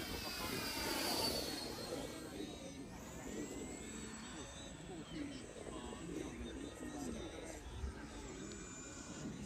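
An FMS 80mm F-86 radio-controlled model jet comes in to land, its ducted-fan whine faint and steady beneath outdoor noise while people talk nearby.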